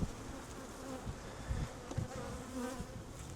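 Honeybees swarm over an opened hive box, a dense and continuous buzzing drone close by with a few individual bees flying past.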